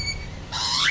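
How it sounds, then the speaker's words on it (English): A bird on the water near a boat lets out a single loud, harsh squawk that rises in pitch, following a faint tonal beep. "The bird is teasing you."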